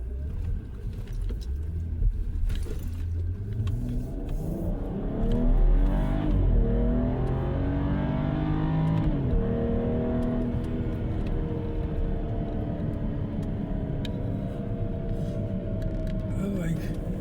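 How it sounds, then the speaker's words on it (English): A car pulls away on a drive through Boulder Canyon, its engine note rising and swelling as it accelerates, heard from inside at moderate volume over low road rumble. "I like the way this car sounds when it takes off"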